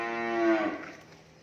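Cow at a Vietnamese cattle farm gives a single loud, close moo that swells and then fades, with quiet farm background after.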